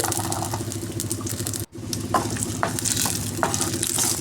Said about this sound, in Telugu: ఇదిగోండి ఇలాగా జీడిపప్పు కిస్మిస్ అయితే వేయించుకుని